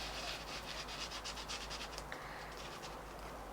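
Soft, quiet rubbing strokes around a vintage photo on a junk journal page, with a light papery scratch that repeats at a brisk rhythm, close by and with no talk.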